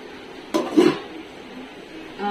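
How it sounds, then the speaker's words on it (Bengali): A lid set onto a pot of simmering shrimp curry, one close metallic clank followed by a brief rattle as it settles, then quiet kitchen background. "ঢাকা দিয়ে দিচ্ছি।"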